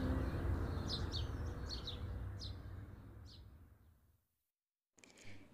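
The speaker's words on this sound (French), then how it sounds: "Ah, c'est un moineau. Il chante bien." A sparrow chirps in short, quick bursts several times, fairly faint over a steady low outdoor rumble, then stops before a brief noise.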